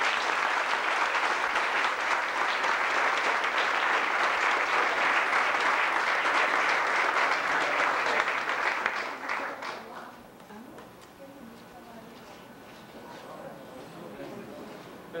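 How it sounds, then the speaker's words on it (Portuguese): Warm applause from guests at a silver wedding anniversary celebration, loud sustained clapping for about nine seconds that then tapers to scattered claps and a faint room murmur. "uma salva de palmas"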